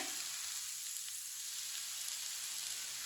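Spices with red chili and turmeric roast in a pan over low heat, giving a soft, even, continuous sizzle that stays faint and steady throughout, with no voices.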